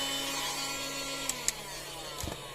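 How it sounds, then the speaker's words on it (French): A small 12-volt vacuum cleaner runs inside a camper van, a steady motor whine and airflow hiss holding throughout, with a few brief clicks and knocks near the end. "ça aspire pas super comme un aspirateur de maison"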